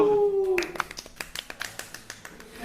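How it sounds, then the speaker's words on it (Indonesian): A single person claps in a steady run of sharp, evenly spaced hand claps, fairly close, after a brief spoken voice at the start during a casual podcast chat. "Tepuk tangan lu"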